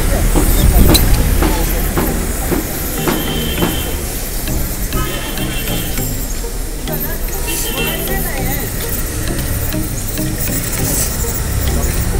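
The Darjeeling Himalayan Railway toy train engine on the Siliguri to Darjeeling line, a steady hissing, chuffing mechanical noise with clanking, heard up close and fairly loud while people talk nearby.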